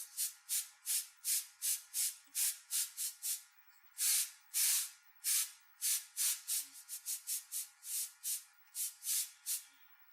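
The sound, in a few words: airbrush spraying paint on a skull illustration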